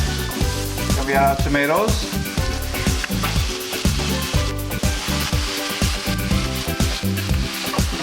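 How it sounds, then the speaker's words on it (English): Garlic sautéing in a pan as part of a salted cod dish, a steady loud sizzle and frying crackle running throughout, with a voice briefly talking over it. "let that saute for a little bit"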